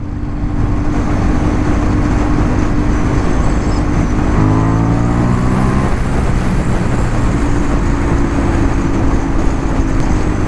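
A 2023 Honda CB750 Hornet motorcycle runs steadily at riding speed, its engine tone dropping and climbing through a quick gear shift midway, with constant road and wind noise throughout.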